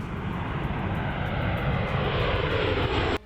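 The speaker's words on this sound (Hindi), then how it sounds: "इस दौरान वहां एक C-130J सुपर हर्कुलिस विमान भी उड़ान भरता नजर आया।" A C-130J Super Hercules military transport plane flies overhead near the LAC, its propeller engines making a steady, loud drone that holds for several seconds before cutting off sharply.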